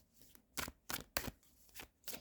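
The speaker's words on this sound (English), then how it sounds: "I do want to shuffle these on top of that." Tarot cards being shuffled by hand, giving about six crisp, separate riffling bursts in a fairly even rhythm, close and quiet with no talk.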